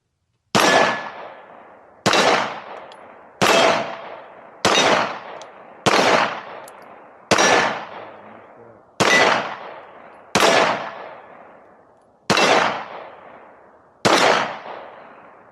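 Tisas double stack 1911 pistol fired outdoors in eleven sharp, loud shots spaced about one and a half seconds apart, each with a short decaying echo and quiet between.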